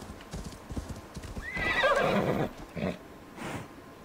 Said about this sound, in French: On va y aller à cheval.